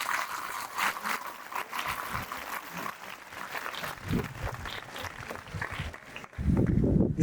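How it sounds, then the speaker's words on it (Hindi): Students clapping in a school session hall, moderate applause from a group that rises into a louder burst at the end, with some murmur underneath. "ताली बजाइए इनके लिए।"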